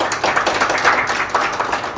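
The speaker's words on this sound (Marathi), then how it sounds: "तर त्यांचं एकदा टाळ्या वाजून सर्वांनी स्वागत करा" An audience at a batch get-together claps to welcome a guest: dense, continuous applause from many hands, close and loud throughout, with no talking.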